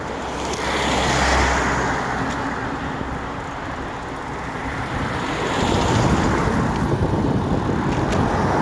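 A car drives through road traffic near a waterfront, a steady loud rumble of engine and tyre noise with passing vehicles and wind, no speech over it.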